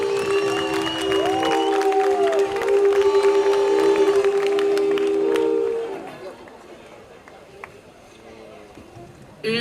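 Applause and cheering from an audience at a 2012 cultural festival award ceremony in Avram Iancu, Romania. A loud, tonal, music-like sound comes first, and a steady clapping wash follows as it fades, with a voice speaking over the crowd.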